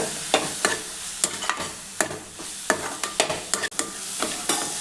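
Grated coconut and banana sautéing in a pan for a sugar-free sweet with rava, with a spatula scraping and stirring in quick, uneven strokes over a soft, steady sizzle.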